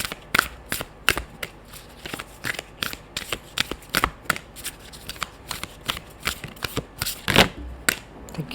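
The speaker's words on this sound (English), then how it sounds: "let's just shuffle a bit." Tarot cards are shuffled repeatedly, a steady run of crisp riffling bursts with short pauses between, close and fairly quiet.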